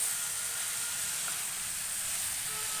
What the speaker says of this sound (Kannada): ಇವಾಗ ನಾನು ಜಜ್ಜಿ ಇಟ್ಕೊಂಡಿರೋಂಥ ಬೆಳ್ಳುಳ್ಳಿ ಸೇರಿಸ್ತಾ ಇದ್ದೀನಿ